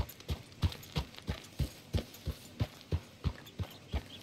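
Horse hooves clip-clop at a steady, even trot in Red Dead Redemption 2, about a dozen regular thuds spaced evenly, close and moderately loud with no talking over them.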